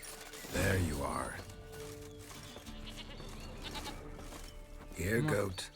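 Goat bleats in the Witcher 3 game world: a wavering, harmonic bleat near the start and another near the end, with a steady ambient game drone and speech in between.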